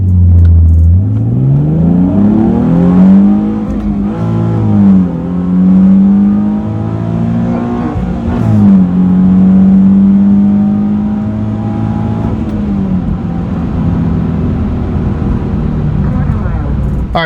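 A car launches hard on a quarter-mile run, the engine rising in pitch through the gears with short dips at each shift, loud and close throughout, with no talking.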